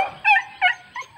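A dog gives three short, sharp barks or yips in quick succession, close and fairly loud, with brief quiet gaps between them.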